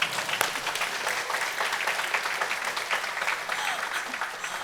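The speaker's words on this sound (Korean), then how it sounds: "박수 한번" An audience at a Buddhist temple gathering breaks into applause, a thick, lively patter of many hands that stays strong and steady, with crisp individual claps near the start.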